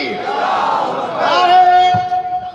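A large crowd at a religious majlis gathering roars back in unison to the Nara-e-Takbeer call, a loud, swelling collective shout with sustained voices rising and fading.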